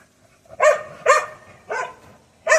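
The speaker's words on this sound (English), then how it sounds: "What are you barking at?" An Australian kelpie barking outdoors, four sharp, close barks spaced roughly half a second apart, loud and alone with no talking.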